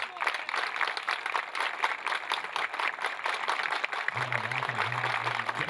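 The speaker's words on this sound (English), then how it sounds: "slow claps." Applause from the crowd at an NCAA Division II outdoor track and field shot put event keeps a steady dense patter throughout, under a commentator talking, with a low hum near the end.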